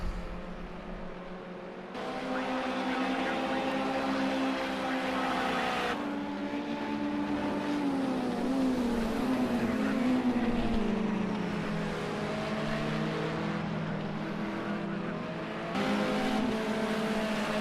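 BMW 320 race cars in a sim racing game sprint race, engines droning and revving steadily throughout, pitch rising and falling with gear changes, loud and continuous with brief dips between shifts.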